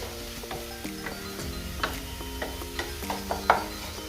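A spoon stirs spice powders into tomato curry in a pan with a run of soft scraping knocks, close and fairly quiet, over a low continuous hum.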